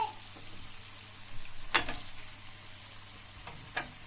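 Filling for içli köfte, meat cooked with tomato paste, sizzles steadily in a pan, with a couple of sharp scraping stir clicks from a utensil over a soft continuous frying hiss.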